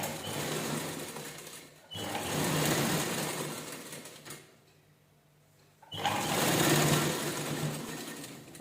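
A sewing machine stitches a folded cloth vegetable bag in two close, whirring runs separated by a brief pause.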